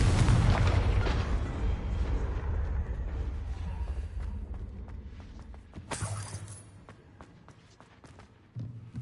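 Blasting spells detonating in a Hogwarts Legacy fight, a heavy boom with crumbling debris that fades, then sharp cracking hits and a second burst near the end.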